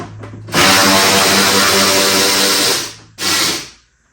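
A power driver backs T25 screws out of a Harley-Davidson Touring fairing, one long loud whirring run of about two and a half seconds followed by a shorter burst, close up with no talking.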